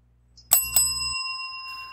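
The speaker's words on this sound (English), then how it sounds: "Well, that was the double bell." A bell sounds twice in quick succession, a sharp bright double ring signalling the end of a work shift, with the tones left ringing out and fading, no voices.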